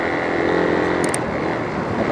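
Motor vehicles pass along a busy road, a continuous loud engine and tire drone with a motorcycle-like buzz, heard through steady wind rumble on an outdoor microphone.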